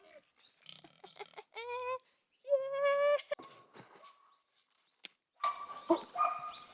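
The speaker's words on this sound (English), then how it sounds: "Luna, you're an unhelpful herding dog." A herding dog on a homestead barks in short bursts amid other farm animal calls, close and fairly loud, with quiet gaps between outbursts.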